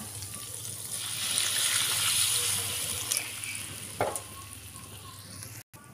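Steady bubbling sizzle of seblak broth simmering in a pan, continuous and close, with a few brief clinks near the end.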